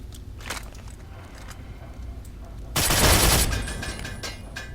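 A turret fires on the player in Fallout 3: one loud, sharp burst of gunfire lasting under a second erupts over quiet game ambience, then dies away into a lingering tail.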